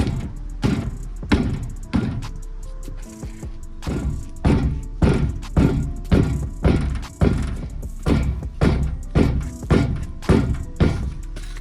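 A stuck rear wheel on a Ram diesel pickup is forced off by repeated heavy blows: loud, close metallic thuds struck in a steady rhythm, roughly one or two per second, with no pause.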